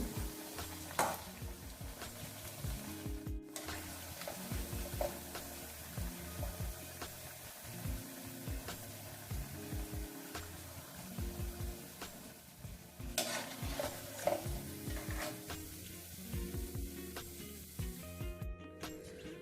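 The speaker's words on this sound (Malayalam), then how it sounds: "ഇത് വറുക്കാനിടുമ്പോൾ ലോ ഫ്ലെയിമിലിടുന്നതാണ് നല്ലത്" Vada made from amrutham powder frying in oil over a low flame, a steady soft sizzle with bubbling crackle and occasional stirring clinks of a spoon, close and continuous with no talk.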